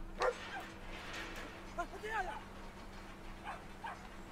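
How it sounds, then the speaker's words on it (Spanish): A small dog in the video game Brothers: A Tale of Two Sons gives a few sharp yips and barks, faint and scattered under someone talking over the game. "Le da miedo el perro."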